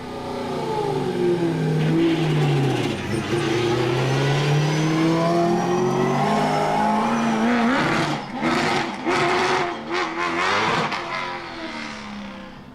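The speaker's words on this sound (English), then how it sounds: "So Michael goes off with the camera car right behind him." A BMW Z4 race car accelerates away on the Nordschleife, its engine revving up through the gears, loud and close at first, then shifting pitch and fading as it pulls off with a camera car following.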